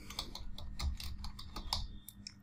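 Code being typed on a computer keyboard: a quick, close run of light, uneven key clicks over about two seconds, with no talking.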